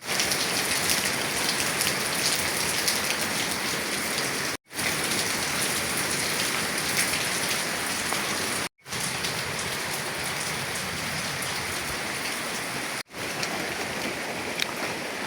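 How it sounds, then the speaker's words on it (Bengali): Light rain falls steadily over a village in the morning, a dense even patter on surfaces heard close and alone for a long stretch, broken only by a few abrupt cuts. "আকাশে দেখতে পাচ্ছেন প্রচুর পরিমাণে মেঘ আর টিপ টিপ বৃষ্টি পড়তেছে"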